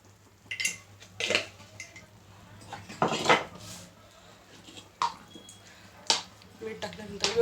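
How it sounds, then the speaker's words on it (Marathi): Greens stirred in a pot after salt is added, with intermittent clinks and scrapes of a spoon against metal, close by, interspersed with a person talking. "आता ह्या मोडवर मी याच्यामध्ये मीठ टाकून एकदा हलवणार आहे."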